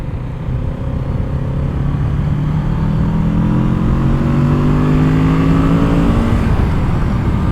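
A 2022 Kawasaki Z650 RS motorcycle accelerating on the road, its engine note climbing steadily under heavy wind rush, loud and continuous from the rider's position throughout.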